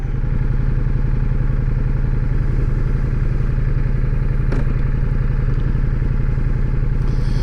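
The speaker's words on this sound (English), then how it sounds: "it revs really quick, and it likes to be up in the rev range" Ducati Multistrada V4S motorcycle's V4 engine runs loud and steady up close, a dense continuous drone with rapid firing pulses and a brief sharp click midway, no speech.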